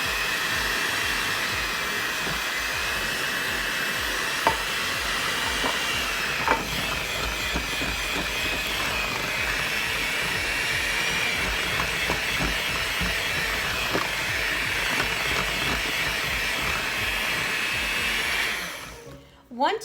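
Electric hand mixer beating cream cheese and sugar in a bowl for cheesecake brownies, a continuous close whirring drone held for nearly twenty seconds with occasional knocks of the beaters against the bowl, cutting off at the end.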